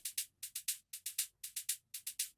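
An organic house drum sample of bright, shaker-like hits plays in quick groups of three, each hit decaying differently as an LFO sweeps its sustain, crisp and close with no voices.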